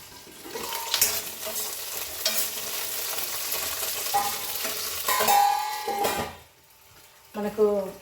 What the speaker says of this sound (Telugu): అందుకే మూత పెట్టి వేయించుకోవాలి